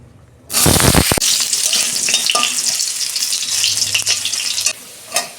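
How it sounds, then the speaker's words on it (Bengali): Potatoes drop into hot oil in a wok (kadai) and burst into a loud, close sizzle that settles into steady frying with a few stirring clatters. Nobody talks over it. "কড়াই তেল দিয়েছি, তেল গরম হয়ে গেছে। প্রথমে আমি আলুটা ভেজে নেব।"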